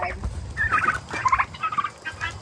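Turkeys gobble in a rapid, overlapping chorus of warbling calls close by on a farm, with low rustling and movement underneath and no talk.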